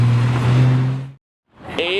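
Mercedes-AMG GT R Roadster engine droning loud and near with a strong low tone, cutting out abruptly to silence, then a fresh surge of engine noise with a rising whine.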